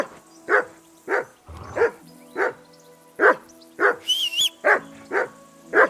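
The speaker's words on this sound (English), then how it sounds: "Call that dog to heel!" A dog barks repeatedly in Kingdom Come Deliverance II, regular sharp woofs roughly every half second, close and loud, with a brief whine and some rustling between barks.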